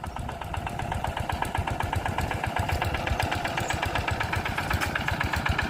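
A long farm tractor stuck in mud chugs steadily with a fast, regular knocking beat, running close by and fairly loud.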